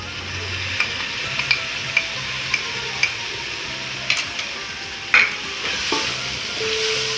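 Onions fry in a pan with a steady close sizzle as tomato goes in, punctuated by a string of light utensil ticks and taps, then a brief louder burst of hiss and stirring.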